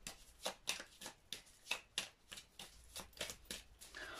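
Tarot cards handled and shuffled at close range: a quick series of soft papery flicks and slaps in an irregular rhythm, fairly quiet, with no talking.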